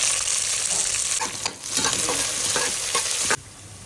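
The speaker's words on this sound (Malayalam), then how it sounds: "4 പച്ചമുളക് ആഡ് ചെയ്യാം, ഇഞ്ചി ആഡ് ചെയ്യാം, വെളുത്തുള്ളി, സവാള ആഡ് ചെയ്യാം" Onion, green chili, ginger and garlic sauté with mustard seeds in hot oil, sizzling loudly close up while a spoon stirs and scrapes through them, until the sizzle cuts out abruptly near the end.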